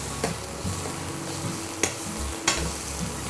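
Green chillies sizzling hard in hot tempering oil for vegetable bhaji, a dense continuous fry with a few sharp pops and stirring scrapes, no voices.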